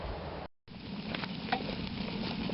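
Water boils hard in a pot holding a green wood bowl, making a steady, close bubbling and sizzling wash with a brief dropout near the start.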